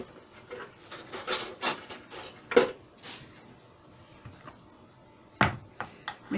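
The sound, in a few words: mixing up mushroom soup for crock pot liver and onions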